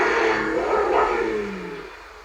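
A 2002-2007 Honda Pilot engine revving, a brief rising rev that peaks then settles back down, close and moderately loud with no talk.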